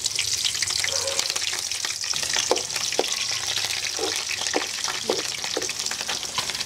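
Green chillies frying in oil in a pan over a wood fire stove, a steady loud sizzle and crackle throughout with occasional stirring knocks and pops close by.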